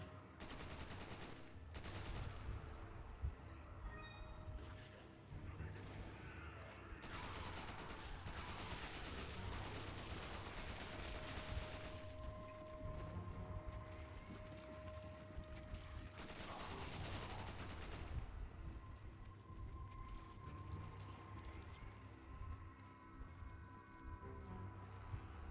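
Machine gun fire with infinite ammo in the Resident Evil 5 video game, sounding as dense, continuous bursts of rapid shots with no pause to reload. Mechanical game noises sit underneath, and the whole thing is fairly quiet.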